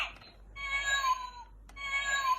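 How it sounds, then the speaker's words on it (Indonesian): Two drawn-out cat meows, close and fairly quiet, separated by a short pause over faint background hum. "Kucing ya, kucing."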